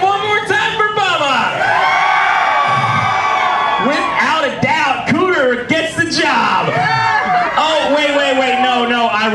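A Gatorland show audience cheers and whoops for Bubba the alligator in a jumparoo act, with loud, sustained crowd cheering, yells and whoops and a host's voice over it.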